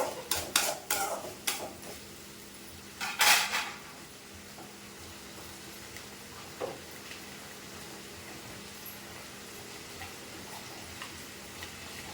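Eggplant and potato pieces are stir-fried in a pan: a few sharp scraping and clattering strokes of the spatula come at the start, then a faint, steady sizzle continues, with one more scrape later and no talk.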